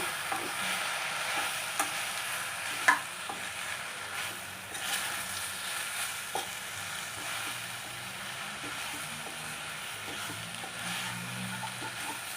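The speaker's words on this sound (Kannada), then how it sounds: "ಧನಿಯಾ ಪುಡಿ ಒಂಚೂರು ಜಾಸ್ತಿ ಹಾಕಿದ್ರೆ ಟೇಸ್ಟ್ ಬರುತ್ತೆ ಅದನ್ನು ಬಾಡಿಸ್ಕೊಳ್ಳೋಣ" Coriander powder and green chillies frying in a pan for a village-style egg and chicken sambar, a faint, steady sizzle with soft stirring scrapes and an occasional clink, no voices.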